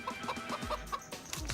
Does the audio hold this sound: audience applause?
no